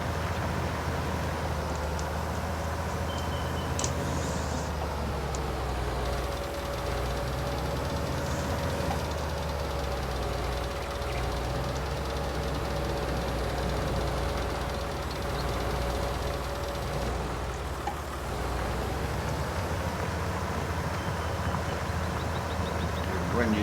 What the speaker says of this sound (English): Tractor coping well with the plough.